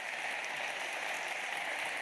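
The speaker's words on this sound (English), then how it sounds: "a big round of applause for our volunteers" A lecture-hall audience at a CS50 class applauds its volunteers, a dense steady wash of many hands clapping, heard at a distance and moderately quiet throughout.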